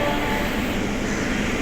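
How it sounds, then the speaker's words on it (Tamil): An electric train at Chennai Beach station rumbles past with a loud, steady mechanical roar and a faint whining tone, continuous throughout. "சென்னை பீச் வந்து பார்த்தீங்கன்னா எதிர்க்க ஒரு ட்ரெயின் வந்து"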